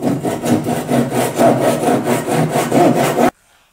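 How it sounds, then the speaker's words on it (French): Rapid, rhythmic hand-saw strokes rasp through oak veneer on a TV cabinet for about three seconds, then stop abruptly. "je le fais pas au rabot, je dégrossis à la scie"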